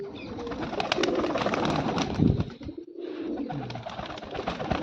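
Pigeons coo in low, throaty bursts over a busy, rustling background, with a few faint chirps and no talking.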